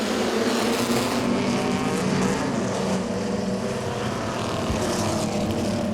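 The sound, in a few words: race cars starting race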